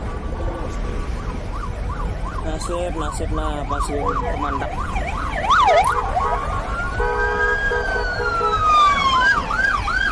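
An ambulance siren wails in rapid rising and falling cycles, loud and close, then shifts to slower long sweeps as it rushes toward a hospital under police escort past Malaysian PM Anwar Ibrahim's convoy. Traffic rumbles underneath, and a voice speaks briefly.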